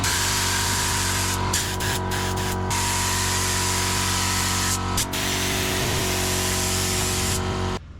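A spray gun coats plastic and fiberglass parts with a steady, close hiss that runs throughout, with short breaks and changes in the airflow and a constant compressor drone underneath.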